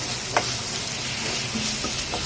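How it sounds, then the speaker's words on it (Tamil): Ginger garlic paste and tomato sautéing in hot oil in a pan, a steady close sizzle with a few soft scraping stirs, no voices. "இஞ்சி பூண்டு பேஸ்ட் ஒரு 3 ஸ்பூன் எடுத்து போட்டிருக்கேன். அதையும் நல்லா வதக்கி எடுத்துக்கலாம்"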